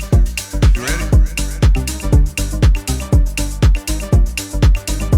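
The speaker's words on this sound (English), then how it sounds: "An ARP sound like this coming from my Berlin preset and sample pack" A looping tech-house synth arpeggio with punchy notes pulsing in a steady rhythm over deep bass thumps, loud and upfront with no voices.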